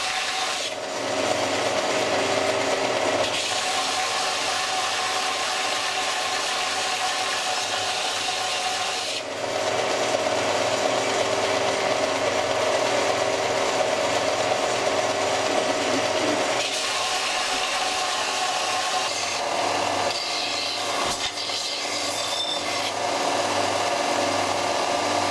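A cast bronze axe is rubbed back and forth against a sharpening stone in long, steady abrasive strokes, a close and continuous gritty rasping that runs for over twenty seconds with brief shifts in pressure.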